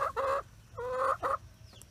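A hen in a backyard flock makes a few loud, close, drawn-out calls in an uneven rhythm, with quiet outdoor ambience between them.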